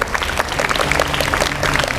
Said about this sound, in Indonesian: Tepuk tangan untuk Zola